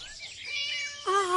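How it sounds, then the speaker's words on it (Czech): A neighbours' cat meows twice, close and clear: one drawn-out, rising-then-falling cry followed by the start of a second, brighter meow, with no talk. "Kočička od sousedů, můžeš si ji pohladit."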